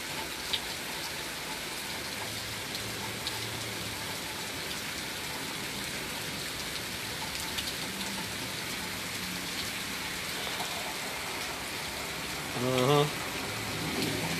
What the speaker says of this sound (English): While y'all watching the rain with me and all that.